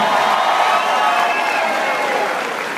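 An audience at a live comedy-style stage show applauds and cheers, a dense, steady wash of many clapping hands and voices filling the room, loud and sustained, fading slightly toward the end.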